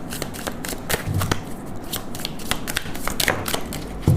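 Tarot cards being shuffled in quick, irregular riffling bursts with sharp papery clicks, close and steady throughout, with no talk.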